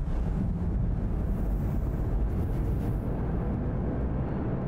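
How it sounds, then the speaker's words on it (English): A Zeus MK II spaceship in Star Citizen powering on, its engines starting with a steady, dense low rumble and airy hiss that holds evenly throughout, fairly subdued and without any talking. "Okay, power on and engine's coming on now."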